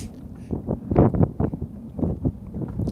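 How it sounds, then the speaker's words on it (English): Strong wind buffets the microphone in heavy, rumbling gusts while crappie fishing on Watts Bar Lake, loud and close throughout. "Oh man, it is so windy."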